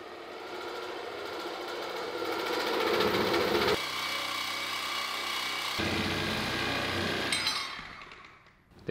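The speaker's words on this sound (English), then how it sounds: "That is our very first cut a chromoly piece off of the chassis." A power tool cuts a chromoly bracket off a car chassis on a four-rotor all-wheel-drive build, a loud continuous grinding whine that shifts pitch twice as the blade bites, then fades out at the end.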